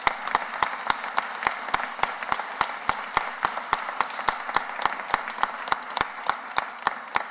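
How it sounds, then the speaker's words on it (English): Steady, evenly spaced claps ring out at a civic announcement in Philadelphia, sharp regular strikes of moderate loudness that sound more like a few hands clapping in rhythm than a full audience ovation. "Please give them a round of applause."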